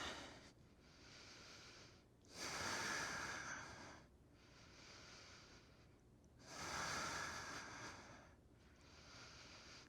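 Slow, deep breaths during a vinyasa yoga flow, two long audible exhales or inhales a few seconds apart with softer breathing between, close and alone without talk.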